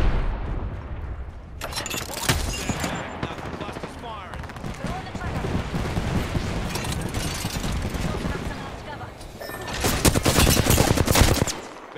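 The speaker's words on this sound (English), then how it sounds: "Being shot at" Automatic gunfire in the Apex Legends battle royale game, dense bursts of shots rattling across most of the stretch, loudest at the start and again near the end, with game effects mixed in.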